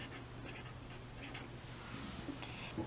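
Pen or marker writing a name on a small paper plant label for a seed-planting greenhouse project, a faint, steady scratching close by in a quiet room with low background hum.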